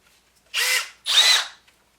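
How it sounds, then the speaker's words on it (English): Two short bursts from cordless power drills, a Milwaukee and a Makita, each whirring for about half a second with a brief gap between, close up and loud, with no talking. "A battle of the drills."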